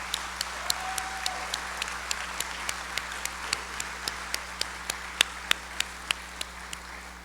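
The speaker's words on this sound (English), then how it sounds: "Can we give them a round of applause, please?" An audience applauds at a school district State of the Schools event at Cordova High School. A wash of crowd clapping runs throughout, with one nearby clapper's sharp, evenly spaced beats standing out.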